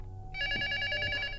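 A telephone rings with a harsh, grating electronic trill in the horror video game Luto, a steady rapid pulsing tone from a phone downstairs over a low ambient hum.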